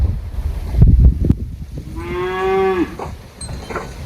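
A cow tied near its calf after milking gives one loud, close drawn-out moo lasting under a second, preceded by rustling and handling noises.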